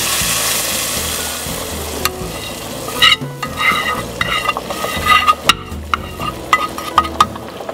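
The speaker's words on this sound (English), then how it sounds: "It's Middle Eastern method to fry the garlic and add the oil over the yogurt." Garlic frying in oil for Middle Eastern mansaf: a steady, close sizzle with a few sharp stirring clacks and scrapes partway through, no voices.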